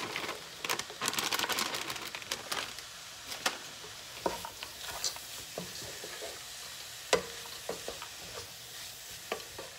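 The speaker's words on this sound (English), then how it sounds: "Now I'm going to add a bag of peas and carrots." Frozen peas and carrots from a bag tumble into a sizzling one-pot beef and vegetable meal, with a soft steady frying hiss, scattered crackles and short stirring clicks close by, and no talking.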